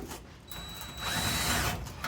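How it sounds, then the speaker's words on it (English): Power drill boring through sheet metal on an M47 cab corner with worn bits, a steady grinding whine with a squealing tone that builds louder midway, close and alone. "Nice old worn out drill bits. So let's see here if this is going to work"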